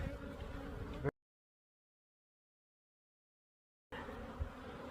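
A dense, steady buzz of many honeybees close by as frames are shaken during a beehive split, cut off by a stretch of total silence before the swarm hum resumes.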